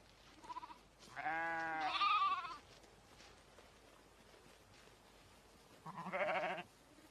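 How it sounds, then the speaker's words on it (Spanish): Sheep of a rare, conservation-bred Bohemian Forest breed bleat in two clear bursts, a quavering call near the start and a shorter one near the end, separated by quiet outdoor background. "Se habría extinguido de no ser por criadores comprometidos en la conservación de esta especie de oveja."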